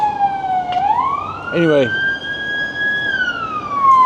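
A loud emergency siren wails through a street in Chisinău, Moldova. Its tone glides up and holds high while a person briefly talks over it.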